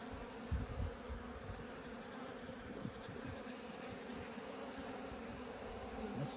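Honey bees buzzing around a hive at an Alaska apiary, a soft continuous drone with a few brief louder passes close by, otherwise faint and steady.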